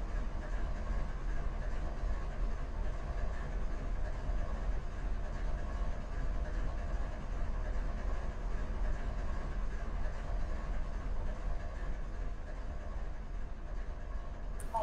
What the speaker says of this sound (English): Just trying not to get rusty running these trains.